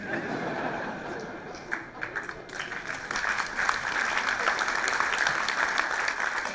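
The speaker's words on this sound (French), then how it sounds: "Essayez d'applaudir ensemble" An audience applauds, ragged at first with a brief dip, then swelling into fuller, steady clapping heard at moderate distance.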